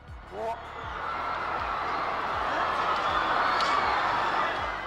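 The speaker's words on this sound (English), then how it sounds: "Not applause," A large crowd at Nicolae Ceaușescu's live outdoor rally breaks into a sustained, swelling roar of booing and jeering, loud and continuous, with a faint rhythmic pulse running beneath it.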